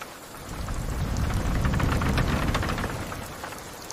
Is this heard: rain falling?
yes